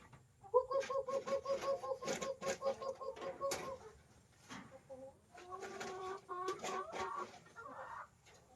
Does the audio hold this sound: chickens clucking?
yes